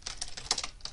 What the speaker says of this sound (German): man hört das Tippen im Hintergrund.